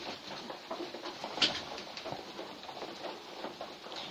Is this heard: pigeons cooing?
yes